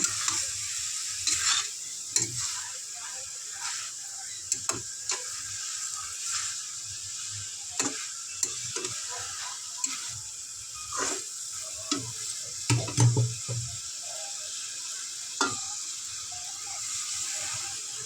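Banana flower with prawns sautéing in a pan, a soft low sizzle under repeated spatula scrapes and knocks at irregular intervals, close and fairly quiet throughout.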